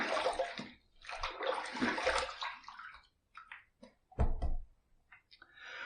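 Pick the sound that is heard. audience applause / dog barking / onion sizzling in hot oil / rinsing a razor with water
rinsing a razor with water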